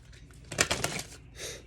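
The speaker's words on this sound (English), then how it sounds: "So we're gonna go ahead and shuffle for y'all." Crystal oracle cards are shuffled by hand in a quick burst of crisp riffling clicks, followed by a softer brushing slide, close up and alone.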